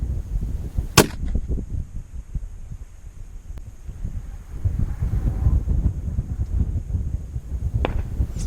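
A .300 Win Mag rifle fired at very long range, a single sharp report early on with a second fainter crack near the end, over steady wind rumble and hum.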